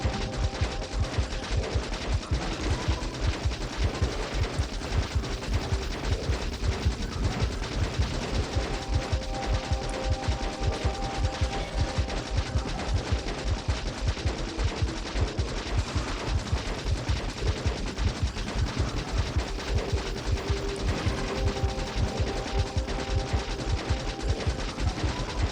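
Rapid, sustained automatic gunfire from gun turrets blasting at an enemy nest in Factorio Space Age, a dense, continuous mechanical rattle of overlapping shots with tonal game sounds running beneath, loud and unbroken throughout.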